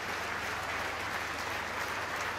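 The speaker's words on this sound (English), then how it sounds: "the applause is still ringing out in my ears and yours" A grandstand crowd at a North Wales rugby match welcomes the Wales XV side onto the pitch with steady, dense applause that fills the whole stretch at an even, sustained level.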